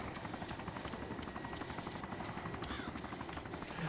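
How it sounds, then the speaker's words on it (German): A helicopter hovers nearby in DayZ Origins with a steady rhythmic rotor thump and engine whine, continuous throughout. "Da, wo der Heli ungefähr hovert."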